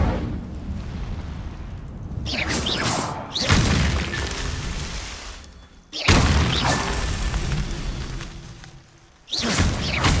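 Incendio fire spell bursts in Hogwarts Legacy, loud roaring whooshes of flame flaring up at least three times with rumbling low booms, alone without talk.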